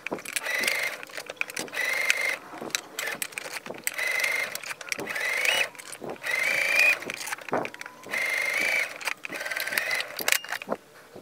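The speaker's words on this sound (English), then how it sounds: "I am just going to go ahead and stitch 3/8 of an inch at that center back" A sewing machine stitches a 3/8-inch center back seam on a dress, running in several whirring bursts of a second or two with brief pauses and clicks between them, close and fairly quiet.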